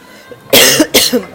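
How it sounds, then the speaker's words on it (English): Two sharp coughs in close succession, loud and near, after a brief quiet moment. "moving on from my coughing here"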